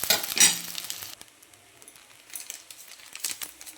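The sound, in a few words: stir-frying rice with vegetables for fried rice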